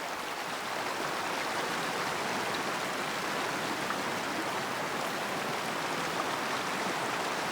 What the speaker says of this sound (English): I think the audio on the water's a bit overdone.